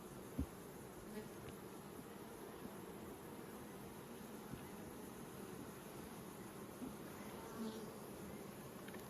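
Honey bees hum at nucleus hives during an outdoor inspection, a faint, continuous buzzing drone with no one talking.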